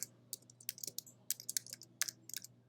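Quiet, rapid clicking of computer keyboard keys in irregular bursts, typing close by with no one speaking.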